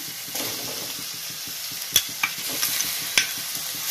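Onions sautéing in a pan with a steady soft sizzle, broken by a few sharp scrapes and knocks of a spoon stirring, heard close with no talk.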